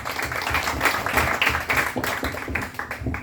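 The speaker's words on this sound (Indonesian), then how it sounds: "Haleluya, kita beri tepuk tangan dulu bagi Tuhan" Church congregation applauding, a steady mass of clapping sustained for a few seconds with some voices mixed in.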